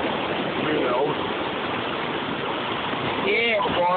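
Ocean water at Myrtle Beach, South Carolina, a steady broad wash of surf and moving water running the whole time, with a voice speaking briefly near the end.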